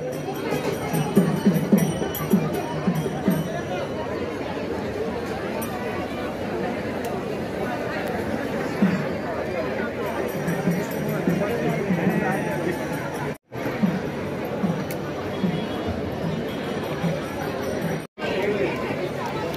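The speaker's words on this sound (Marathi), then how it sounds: "भीमथडीत बघा मटण खायला, चिकन खायला किती गर्दी, गर्दीच गर्दी." Dense crowd chatter fills the Bhimthadi Jatra fair in Pune around food stalls selling mutton and chicken thalis, a constant close hubbub of many voices with two brief dropouts near the end.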